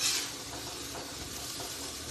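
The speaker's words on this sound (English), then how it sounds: "you always want to scrape that char off the griddle" Metal spatula scraping charred bits off a hot griddle during a smashburger cook, a steady close sizzle with gritty scraping strokes running under it for a couple of seconds.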